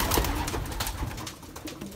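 Belgian racing pigeons coo inside a loft, soft low murmuring coos overlapping in a steady, muffled bed with faint scuffs and wing movement nearby, no talk.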